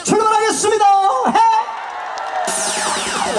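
A beachside concert crowd at Ilsan Beach cheers and whoops loudly after a trot singer calls for it, with shouts and a rising roar, then music swells in.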